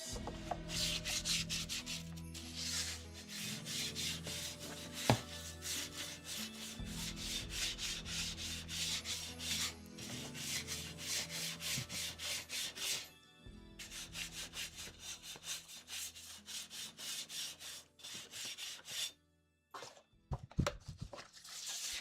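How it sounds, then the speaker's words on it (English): Rust and dirt being scuffed and sanded off a part from a 1982 Corvette during a restoration: continuous scraping and rubbing strokes, fairly faint, with short pauses and a few sharper knocks near the end. "knock off the dirt for now, and then a little bit of that rust, scuff it up a bit"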